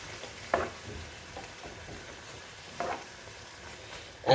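Tomatoes being stirred into a frying pan, a low steady sizzle with a few scraping stir strokes and a louder clatter at the end, no voices.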